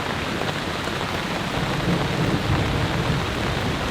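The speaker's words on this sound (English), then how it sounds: "As you can hear, it's still storming," Heavy rain pours down in a steady roar outside a large camping tent during an intense storm, with low thunder rumbling and swelling through the downpour and no voices.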